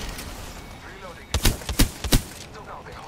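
Gunfire in the video game Apex Legends. After a quiet stretch, a close burst of five or six sharp, rapid shots rings out in quick succession, with a faint voice underneath.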